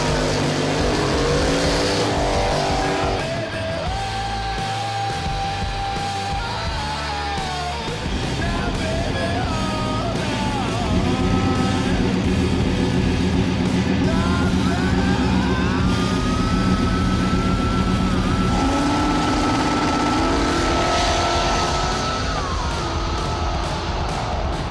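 Two Ford Mustangs, one white and one blue, drag racing on a city street, engines roaring loudly and continuously, revving and shifting through gears as they launch and pull away, with crowd noise faint underneath.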